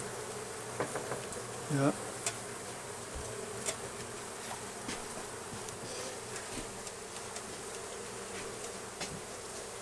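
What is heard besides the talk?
honeybees buzzing while being moved into an observation hive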